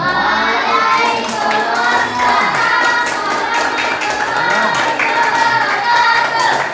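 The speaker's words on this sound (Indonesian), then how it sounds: "Tepuk tangan." A classroom group claps together for a presenting team at a teacher-training Islamic jurisprudence session, a dense, sustained burst of applause held at an even level throughout.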